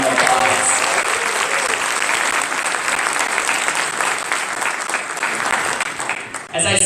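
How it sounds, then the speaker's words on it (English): Audience at a swearing-in ceremony applauding the performers, a dense, loud, sustained wash of clapping from a large crowd that continues throughout. "can we give all of the performers another round of applause?"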